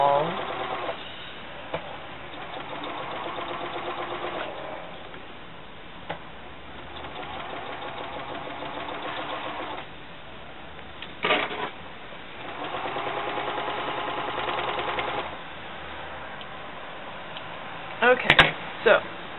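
A serger sewing machine stitching fabric runs in several short bursts of rapid mechanical whirring, stopping between runs, with a person talking quietly in the pauses and a few handling clicks near the end.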